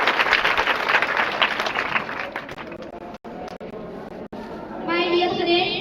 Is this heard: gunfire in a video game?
no